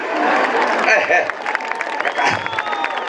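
A crowd claps and cheers in a dense, continuous burst of applause, with voices calling out in the mix.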